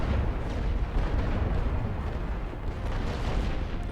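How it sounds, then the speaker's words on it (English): Continuous distant artillery bombardment on a World War I Western Front battlefield in The Great War: Western Front, a dense, low rumbling roar of overlapping booms held at a steady, fairly quiet level throughout, with no voices. "There's no reason that we should ever really stop our artillery."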